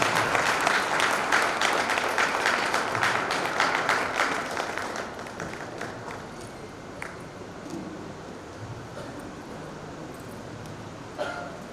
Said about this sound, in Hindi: सभी लोग तालियां से स्वागत करते रहेंगे।